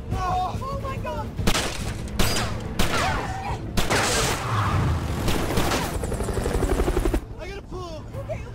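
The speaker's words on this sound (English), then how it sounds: "ground is firing on suspects" Bursts of gunfire from ground units shooting at suspects during a police pursuit, heard under a loud, steady helicopter drone with shouting voices in between.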